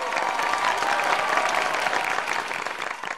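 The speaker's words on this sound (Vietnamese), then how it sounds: "Thưa quý vị, một tràng vỗ tay ạ." Studio audience at a Vietnamese televised singing competition bursts into applause, a dense steady wash of clapping sustained for a few seconds with no voices over it.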